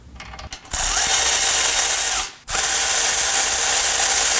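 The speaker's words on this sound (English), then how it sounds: "I'm just going to go ahead and snug these down." A ratchet wrench loudly snugs down the hub assembly bolts on a 2018-2024 Toyota Camry during a front wheel bearing replacement, two close bursts of rapid clicking separated by a brief pause, with no talk.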